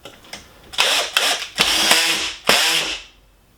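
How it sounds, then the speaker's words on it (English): A drill drives a bugle head screw into hard wood in several short, loud bursts, the motor whirring and stopping between pulls, recorded close with no talking. "Went down as far as it could with that little bugle head on the screw into that hard wood."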